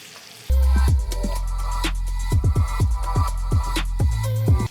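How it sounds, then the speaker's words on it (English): A salmon fillet sizzles in a hot pan, a steady loud frying hiss broken by sharp clicks and clatters of utensils against the pan, with no voices. "as our salmon finishes cooking"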